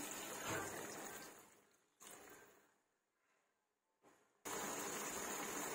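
Water is poured into a hot cooking pan of dry prawn curry in several bursts, each making a loud hiss and sizzle that dies down between pours.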